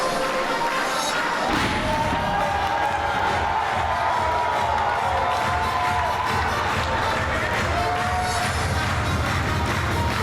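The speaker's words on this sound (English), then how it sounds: "Great crowd reception for Oliwa and Panic." Crowd cheering and roaring steadily at a wrestling show during a tag team battle royal entrance, a dense, continuous wall of noise with scattered thumps and a few whistle-like tones.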